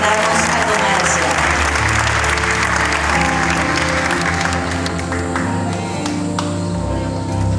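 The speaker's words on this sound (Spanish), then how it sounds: "Le brindamos un fuerte aplauso a los estudiantes y licenciados" Sustained loud applause from an audience honouring students at a school graduation ceremony, steady dense clapping throughout with a murmur of voices underneath.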